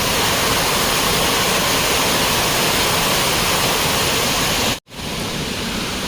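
A steady rushing roar from a Maredumilli waterfall fills the clip at constant loudness, with a brief dropout near the end and no voices.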